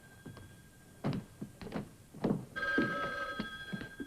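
A telephone bell rings with a steady metallic trill near the end, preceded by scattered thumps and light handling noises in a quiet room.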